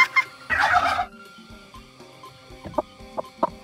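Turkeys on a farm gobble in a loud burst, then give several shorter, scattered gobbling calls and clucks at close range, with no talking.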